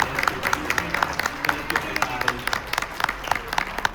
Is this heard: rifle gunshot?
no